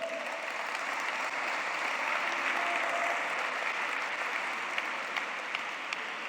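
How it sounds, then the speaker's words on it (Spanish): Church congregation clapping for Christ, a sustained, even round of applause from a large crowd filling the room, moderately loud and unbroken for several seconds. "Vamos a darle un aplauso a Cristo."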